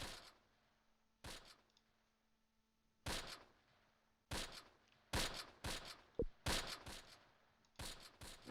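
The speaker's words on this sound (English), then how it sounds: "Somebody was shooting." Gunfire in the Close Combat WWII game, Normandy hedgerow battle: repeated sharp bursts of rifle and machine-gun fire, some isolated shots and clustered volleys at irregular intervals over a quiet low hum.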